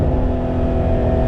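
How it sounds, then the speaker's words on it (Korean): A loud, high-pitched V6 engine rev of a Lotus Emira held steady above 5000 rpm, a sharp droning howl close by with no voices. "이렇게 5000rpm 이상으로 돌렸을 때 터지게 되는 이 하이 소프라노 사운드"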